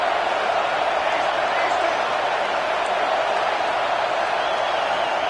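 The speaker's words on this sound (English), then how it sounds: "this crowd is at fever pitch" A stadium crowd at a college football game roars during a red-zone down, forming a loud, dense, sustained wall of cheering with no breaks.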